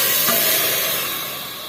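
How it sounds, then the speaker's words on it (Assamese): Water poured into a pot of fried rice for pulao, a loud steady hissing rush that slowly fades, no talk. "এতিয়া মই ইয়াত পানী দি দিম।"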